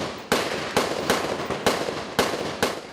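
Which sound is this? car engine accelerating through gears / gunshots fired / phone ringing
gunshots fired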